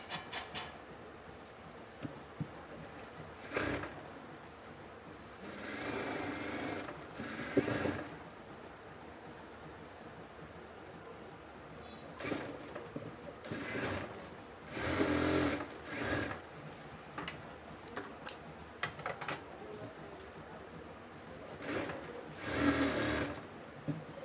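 Sewing machine stitching the shoulder seam of a kameez, running in several bursts of steady whirring separated by short pauses, close and fairly loud.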